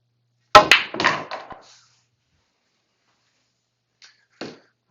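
A pool cue strikes the ball with a sharp click, followed quickly by a few rattling knocks of balls colliding, then silence and two faint, distant clicks later on.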